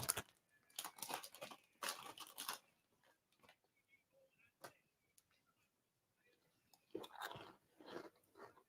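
Onion ring crisps crunched up close in bursts of sharp, crackly bites, a dense cluster at first, a lone crunch midway, then another run of chewing near the end, with quiet gaps between.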